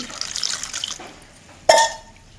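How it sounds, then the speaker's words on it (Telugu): Water sloshes and splashes as mangoes are washed in a bowl for a moment, then a sharp clink rings out before things quiet down. "ఒక గిన్నెలో మామిడికాయలు వేసుకుని ఒక కొన్ని వాటర్ పోసుకుని మామిడికాయలు శుభ్రంగా కడుక్కున్నామండి"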